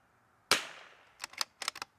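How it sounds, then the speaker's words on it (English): A single sharp report from a Curtis Scout .22LR rifle fired outdoors, followed by a few fainter clicks and clatters afterward. "let's shoot the base of that"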